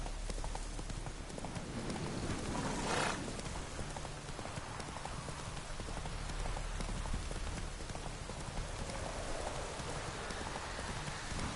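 In The Witcher, the horse Roach gallops through rain with fast, steady clip-clop hoofbeats at close range over a constant hiss of rainfall.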